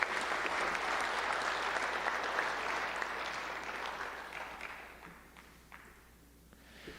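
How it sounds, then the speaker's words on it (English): Audience applause fills a high school football ceremony, sustained and fairly steady before thinning and fading out toward the end, with a few scattered claps remaining. "Let's give him one more round of applause."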